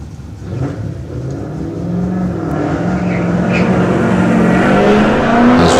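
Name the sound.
Mark II Ford Escort race car driving up hillclimb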